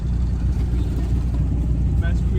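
Idling bike engine, a YBC-type motorcycle at a Saturday night gathering, a steady low rumble throughout with people's voices faintly mixed in.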